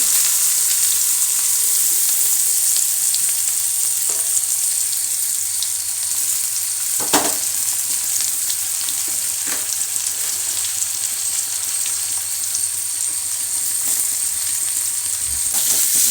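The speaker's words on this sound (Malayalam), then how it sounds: "അതിലേക്ക് അരിഞ്ഞ് വെച്ച ഉള്ളി ഇട്ട് കൊടുത്ത്" Chopped onions sizzle steadily in hot oil with fenugreek seeds, a loud continuous frying hiss broken by a few sharp clinks of stirring.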